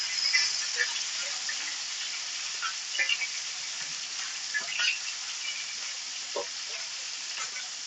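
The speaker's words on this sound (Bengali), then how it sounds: "আমি মাছগুলো এবার ভেজে নেব।" Four pieces of Japani puti fish frying in hot oil, a steady soft sizzle with scattered small pops and crackles, close and even throughout, no voices.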